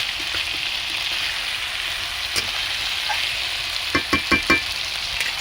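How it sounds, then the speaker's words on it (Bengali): Lemon chicken frying on low flame in a pot, a steady close sizzle with a few light clinks and then a quick burst of spoon strokes as it is stirred. "হালকা আঁচে এভাবে আধা ঘন্টার মতো কষে নেব"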